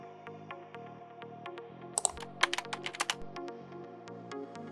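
Keystrokes on a computer keyboard typing into a device console, a quick run of distinct clicks clustered mid-clip over a steady electronic hum, close and fairly quiet.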